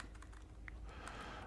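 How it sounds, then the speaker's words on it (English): Faint, quick taps of typing on a computer keyboard, a few scattered keystrokes in a quiet room with no voice. "I'm good at typing."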